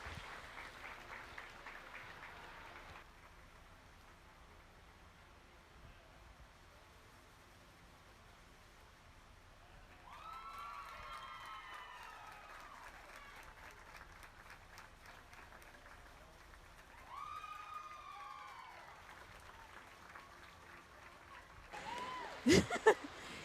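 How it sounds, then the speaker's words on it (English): An audience at a youth sheep market show applauds the young exhibitors, a sustained, even wash of clapping that swells slightly midway, with some bird-like calls and a few louder knocks near the end. "Give them a nice round of applause."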